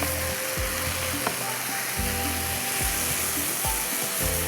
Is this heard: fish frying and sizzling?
yes